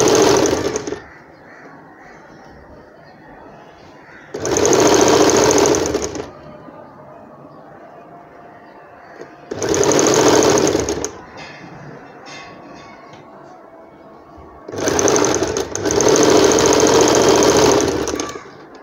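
A sewing machine stitches an umbrella frock neck strip a quarter inch from the edge in four loud, separate runs of a few seconds each, with quiet pauses between them.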